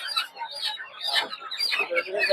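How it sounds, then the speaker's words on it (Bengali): Farm-raised chicks and chickens at a country poultry market in Narsingdi, Bangladesh, cluck and chirp continuously in a dense, close chorus of overlapping calls. "এদিকে দেখতে পাচ্ছেন হচ্ছে ফার্ম মুরগি বাচ্চা।"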